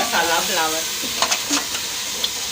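Green chillies and onion sizzle in a pan on a home stove, a soft steady frying hiss with a few light stirring clinks while someone speaks briefly over it.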